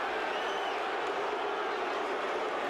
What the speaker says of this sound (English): A bit of anti-Tyson feeling in the crowd.